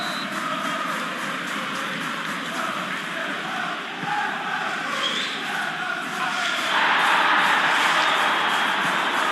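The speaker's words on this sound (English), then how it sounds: "You can hear the annoyance in the crowd." Simulated football stadium crowd in a PES match, Liverpool against Newcastle United, with a sustained groaning, restless roar of many voices that swells louder toward the end, dense and continuous beneath the game audio.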